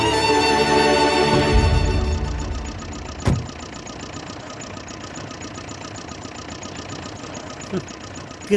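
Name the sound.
vehicle engine idling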